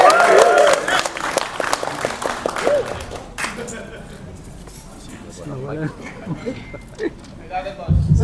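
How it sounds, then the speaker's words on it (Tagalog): Audience applause at a PBA Finals press conference for San Miguel Beermen versus TNT Tropang 5G, a burst of loud clapping for the first few seconds that then fades, followed by someone speaking over a quiet room. "Parang mahina yung palakpak minsan."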